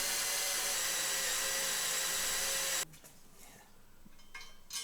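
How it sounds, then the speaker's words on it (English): A power drill boring holes for mounting a 5 Eleven grill guard with light oil on the bit, a loud steady whine for about three seconds, then stopping into quieter clicks and handling noise. "So, I get drilling in there a little ways, put a little light oil on it"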